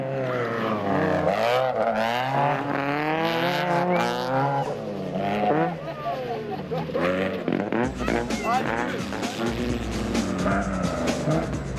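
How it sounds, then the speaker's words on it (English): Rally cars driven hard around a stadium stage at the 2012 Roco 250, their engines revving loudly up and down in rising and falling sweeps, close and continuous throughout. "the stadium stage certainly supplied spectators with plenty of entertainment as drivers enjoyed throwing the cars around with gay abandon"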